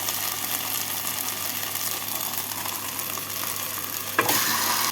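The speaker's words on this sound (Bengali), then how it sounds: "এবার এর মধ্যে দিয়ে দিচ্ছি ম্যারিনেট করে রাখা চিকেন" Marinated chicken fries with onions in a pan, a steady, dense sizzle that carries on throughout, with a brief louder burst of crackling near the end.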